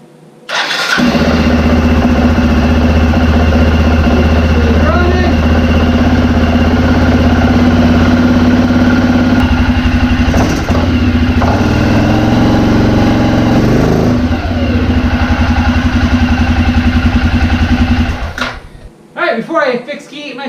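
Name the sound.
rebuilt Arctic Cat 400 engine starting and idling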